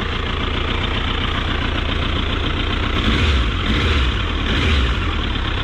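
A Triumph motorcycle engine idles steadily nearby with a constant low rumble and a faint rhythmic pulse, briefly swelling a little louder toward the end.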